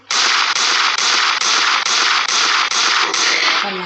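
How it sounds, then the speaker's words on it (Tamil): Pistol gunshots in the mobile game Indian Bike Driving 3D ring out as eight sharp, evenly spaced cracks in rapid succession, loud and close, with no talk. "பிஸ்டல் அடிச்சதுக்கே சாவாங்க."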